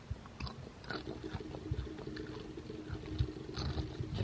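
Popcorn is munched close up, with irregular soft crunches and chewing bites repeating throughout at a low, intimate level.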